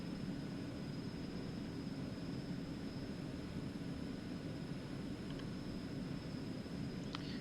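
An Eclipse 550 jet takes off in X-Plane 11, a steady, even broadband engine roar with a faint high whine, constant and unchanging with no voices over it.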